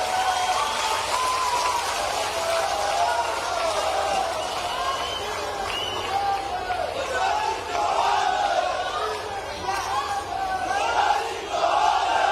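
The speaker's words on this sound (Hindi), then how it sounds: "माननीय शिवराज सिंह जी चौहान का जोरदार तालियों से स्वागत और वंदन" A large crowd at an airport groundbreaking event in Datia cheers and chants to welcome Shivraj Singh Chouhan, a steady roar of voices and clapping with a loudspeaker voice running through it.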